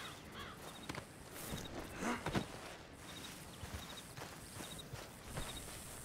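Rhythmic clip-clop of a horse's hooves in Red Dead Redemption 2, a steady walking beat with ambient crow caws and game sounds around it, no talk over it.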